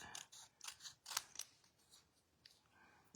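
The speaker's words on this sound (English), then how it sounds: "We're going to use our paper snips. And we're going to stamp out, oh, cut out" Paper snips cut out a stamped Christmas card, a quick series of crisp, close metallic snips in an irregular rhythm, quiet and alone.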